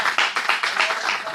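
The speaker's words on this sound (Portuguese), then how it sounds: "aplauda o Senhor bem forte" Church congregation applauding together after a prayer, a dense continuous clapping wash with rhythmic swells, fairly loud and close.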